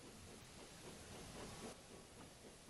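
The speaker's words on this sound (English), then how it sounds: "And he bumped the trucks again." A steam engine shunting goods trucks around a yard, heard as a faint, steady steam hiss with soft rumbling and muted knocks underneath, with no voices.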